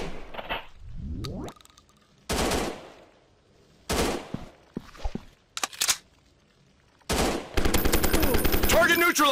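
Gunfire in the first-person shooter mobile game Gun Strike Shooting 3D: several short, sharp shot bursts spaced apart, then a loud, sustained run of rapid automatic fire at the end.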